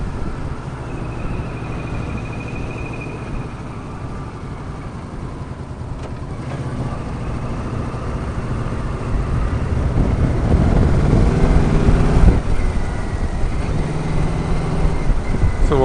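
A 1300 Yamaha Royal Star Venture trike engine runs nearby with a steady low drone that swells louder and rougher toward the end, as if pulling away or revving, with no talk over it.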